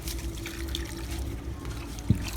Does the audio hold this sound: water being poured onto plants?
yes